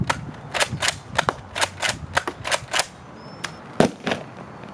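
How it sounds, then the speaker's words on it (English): Gunshots in the Apex Legends video game, roughly a dozen sharp, separate cracks fired in an irregular rhythm with short pauses between them. "Like, imagine I'm shooting someone like this."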